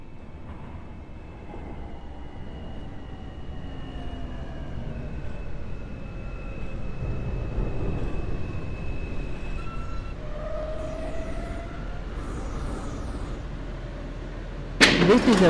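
A New York subway M train in a train simulator game runs with a continuous low rumble and rising, falling electric motor whine, ending in a sudden sharp burst of noise.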